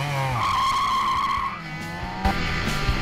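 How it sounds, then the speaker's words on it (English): A car skids with tires squealing and its engine revving, a loud sustained screech that fades into revving engine sound and a couple of sharp knocks, played as a short intro effect for a car repair channel. "Rev up your engine!"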